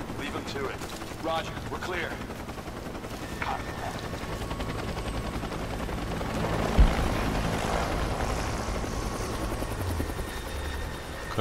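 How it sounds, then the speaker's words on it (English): A helicopter in the video game Rise of the Tomb Raider keeps up a steady rotor thrum throughout, with scattered gunfire and a brief thud, while a faint voice talks now and then. "Can I destroy that helicopter?"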